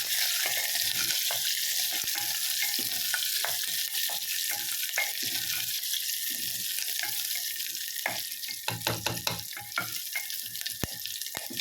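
Five or six chopped small onions sauté in hot oil in a pan, a steady loud sizzle with scattered clicks and stirring taps of a spoon throughout, no voices.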